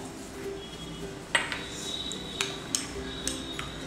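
A metal spoon stirs a saffron and pistachio kulfi base in a bowl, giving a few sharp clinks and scrapes against the rim over a low, steady background, close and fairly quiet, with no talk.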